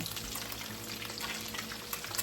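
Fish pieces frying two at a time in hot oil, a continuous close sizzle with bubbling and occasional louder pops, steady throughout without any talking.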